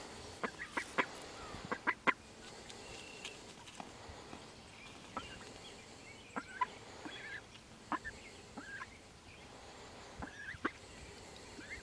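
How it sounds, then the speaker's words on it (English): A domestic duck walked down toward a pond gives scattered short honking quacks, some clustered in quick pairs and others spaced seconds apart, against a quiet outdoor background. "we've been walking the duck down to the pond"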